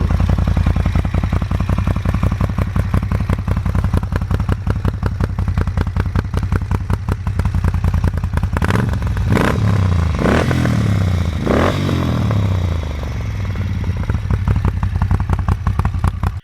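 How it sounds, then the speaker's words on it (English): A 2015 Moto Guzzi 1400 Eldorado, a 1380cc Italian V-twin cruiser, runs steadily and loudly up close with a throbbing engine pulse, broken by a few blips of the throttle partway through. "We'll give her a little start up. She starts up, typical modern bike. The whir, the fuel pump, and instant"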